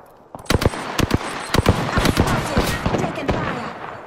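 Rapid gunfire from Apex Legends, a sci-fi battle royale shooter, with sharp repeated shots crackling close and loud in uneven bursts over a busy battle bed of smaller pops and rumble.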